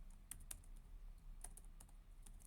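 Typing on a computer keyboard, soft irregular clicks of individual keystrokes at close range, faint and quiet with no talking.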